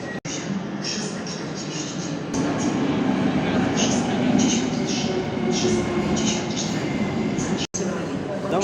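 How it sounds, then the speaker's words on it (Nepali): A train rolls into a station platform in Poland with a steady, loud rumble and rail noise running throughout, while people talk nearby over it. "बल्ल ट्रेन आइसकेको छ"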